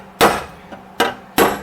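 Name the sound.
hammering welded steel floor pan of a Datsun 280ZX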